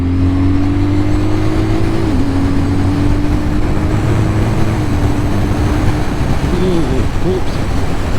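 A BMW R12nineT motorcycle without fairings rides at high speed, with heavy rushing wind roar over a steady engine drone that dips and shifts pitch slightly as the throttle changes.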